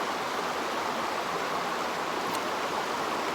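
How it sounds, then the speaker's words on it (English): A river spills over jutting bedrock in a small natural waterfall, giving a steady, close, broadband rush of flowing water with no voices. "where the bedrock is sticking up here, and it kind of makes another little waterfall"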